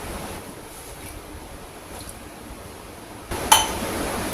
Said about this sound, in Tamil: அதுக்கு தண்ணி ஊற்றிக்கலாம்